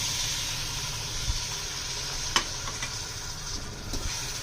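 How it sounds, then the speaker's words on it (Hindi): A spoon stirs sugar with yogurt and lemon in a cooking pot, giving a steady low hiss and soft scraping with a few faint clinks, close and continuous. "इसको आपने ऐसे हिलाते रहना, चमचा मिक्स करते रहें ताकि जो चीनी है वो पिघल जाए"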